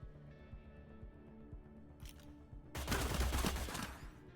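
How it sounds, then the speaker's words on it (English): Gunfire in Cyber Knights: Flashpoint, a sharp crack followed by a dense, loud burst of rapid shots, after a stretch of soft ticking and low thumps. "you're going to hear gunfire as well"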